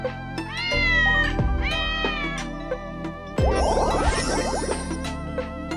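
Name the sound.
cat meowing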